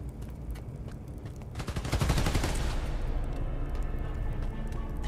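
Enemies open fire in Spider-Man Miles Morales, a dense burst of rapid gunshots rising suddenly and then settling into a sustained, loud barrage of crackling fire layered over a steady rumbling background.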